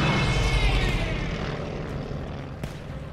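A propeller airplane in the World War II shooter Battlefield V roars loudly overhead, its engine noise swelling then fading as it passes, with a sharp thump near the end.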